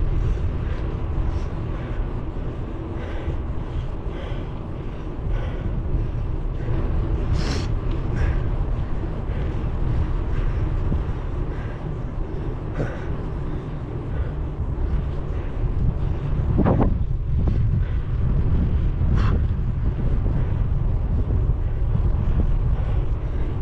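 Constant heavy headwind buffeting a microphone while riding a gravel bike, a low rumbling roar with occasional gusts and faint rattles, continuing without pause.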